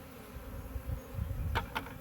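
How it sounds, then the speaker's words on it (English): A honey bee swarm buzzing around a hive box and bucket during a swarm capture: a soft, steady low drone of many bees, fairly quiet and close, with a few brief sharper clicks or taps near the end. "There's still bees inside the bucket here."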